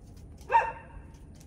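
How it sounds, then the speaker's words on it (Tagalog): A single short dog bark, moderately distant, rising out of a quiet outdoor background in a garden where crape myrtle cuttings are being propagated. "Tahol ng tahol."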